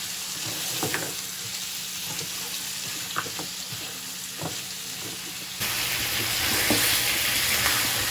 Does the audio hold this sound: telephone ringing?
no